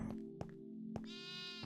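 A sheep bleating in the Minecraft Stoneblock modpack, a few short clear bleats close by, ending in a longer wavering bleat, with no talk.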